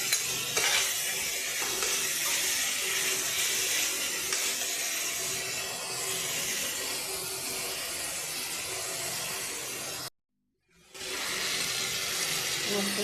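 Spices sizzle steadily in a hot pan for a home-style Bengali egg curry, with a continuous close crackling hiss and occasional stirring scrapes, broken by a brief silent gap near the end.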